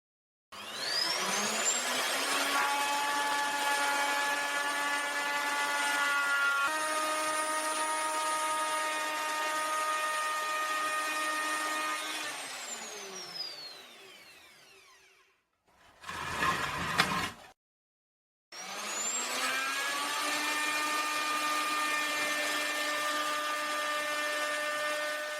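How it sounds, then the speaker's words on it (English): A router bit cutting a 3 mm groove into the wooden end of a barrel whines loudly and steadily as it spins up, runs for about twelve seconds, winds down, then restarts after a brief clatter. "This makes it possible to cut a groove 3 millimeters deep and 3 millimeters wide as the guide wheel moves along the inside of the groove."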